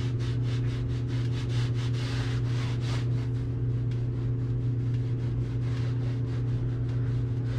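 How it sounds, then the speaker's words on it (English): A brush or pad is rubbed back and forth over a painted surface in quick, rhythmic scrubbing strokes, heard close over a steady low mechanical hum, with no speech. "and just kind of scrub here. Take and scrub."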